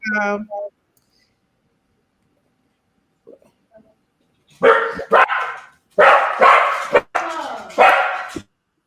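Dog barks loudly and close in a burst of several sharp barks, starting after a few quiet seconds and following a short snippet of voice at the start.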